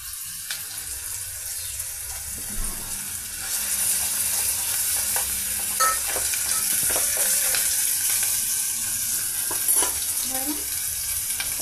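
Large onion pieces, cloves, cinnamon and ginger-garlic paste fry in a pan for a potato kurma, a steady close sizzle that grows louder partway through, with light scraping and clinking from stirring.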